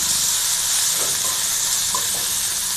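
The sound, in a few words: tomatoes sautéing in a pan with onions and green chilies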